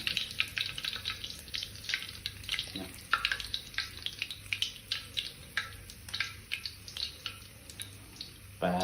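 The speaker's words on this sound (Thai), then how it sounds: "ทอดปลานินทอดครับผม" Tilapia fish frying in hot oil, with a steady sizzle and crackling bursts and pops scattered throughout at close range.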